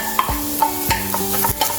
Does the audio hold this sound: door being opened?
no